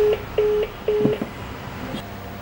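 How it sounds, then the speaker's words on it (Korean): Telephone dialing from a hotel phone, a series of short steady tones in an uneven rhythm, then a brief clunk and fainter tones trailing off, close and clear. "몇 번의 시도 끝에"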